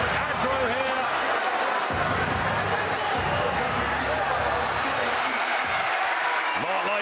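A passionate boxing crowd roars in a dense, continuous wall of cheering and shouting at a Roy Jones Jr. fight night. A commentator's voice runs through the din.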